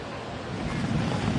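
A powerful river current floods Barangay Gasi in Kiamba during a typhoon, a continuous loud roaring rush of water mixed with wind buffeting the microphone.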